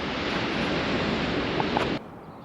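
Big ocean surf breaks and roars loudly and continuously on the shore, blending with wind rumble, then cuts off abruptly near the end.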